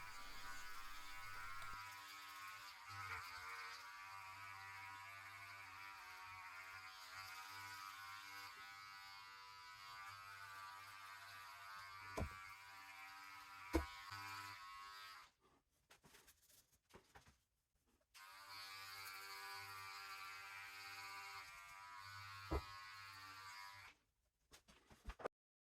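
Electric hair clippers fitted with a 2 blade buzz through a home haircut. The steady, close hum runs for long stretches, broken by one short pause and a brief stop near the end, with a few faint clicks along the way.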